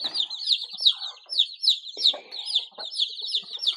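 Chickens in a new coop clucking in a repeated rhythmic run of bright, close calls, with a few softer cackles and chirps beneath, loud and steady across the whole stretch.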